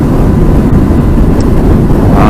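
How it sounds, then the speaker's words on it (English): A 2013 Honda CBR600RR motorcycle with its stock exhaust, a loud, steady engine rumble heavily buffeted by wind noise, continuous throughout with no talking. "doesn't sound bad, it's just generic"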